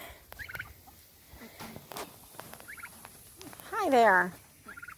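Turkeys on a smoky mountain homestead gobble in a loud, rippling burst near the close, with shorter gobbles earlier, while a person speaks briefly to them.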